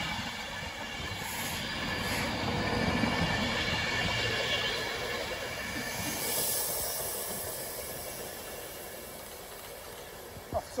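A train pulls out of Wigan North Western station bound for Glasgow Central, with a steady rolling rumble and a hiss from the track that swell and ease, plus faint high squealing.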